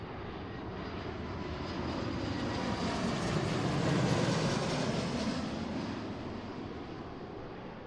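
An airliner lands at Seattle-Tacoma airport, producing a broad, steady jet roar that swells to a peak midway and then slowly eases, with no voices.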